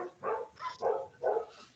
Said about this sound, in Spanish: tengo el micrófono abierto y están ladrando los perros acá en mi casa